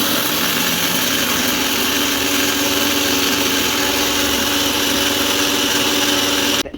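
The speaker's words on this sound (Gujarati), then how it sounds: "ચલો મિક્સર ચાલુ કરીએ." A steady, loud motorized whirring runs continuously from a kitchen mixer grinder grinding coriander and cumin seeds, then stops abruptly at the end.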